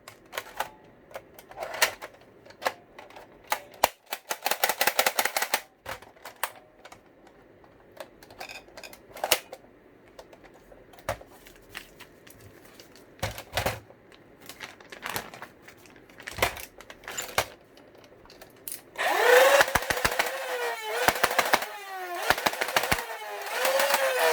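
A Dart Zone Pro MK3 MechaROF+ toy blaster modified for better feeding fires darts in quick clattering bursts of rapid mechanical clicks, separated by pauses and isolated shots, with a sustained rattling volley near the end.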